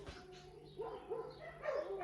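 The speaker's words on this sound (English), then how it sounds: "we're just gonna have to go past these dogs because they don't want to stop" Several dogs bark and yip in short, irregular bursts at moderate distance outdoors, overlapping one another with a steady low background hum.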